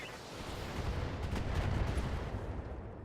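A mech's weapons fire in the BattleTech video game, a rolling burst of heavy shots and impacts that swells through the middle and stays loud to the end, with no voices.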